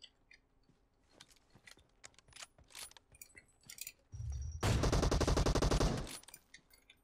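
Gunfire in PUBG Mobile: scattered clicks and small shots give way to a loud, dense burst of rapid automatic fire that lasts about two seconds before cutting off, with no talking.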